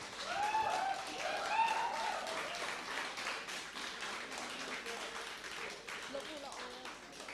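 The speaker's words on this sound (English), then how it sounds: "A huge round of applause." Audience claps for a quiz winner at a college induction programme, moderately loud and fairly brief, with a voice heard over the start, tapering off as it continues.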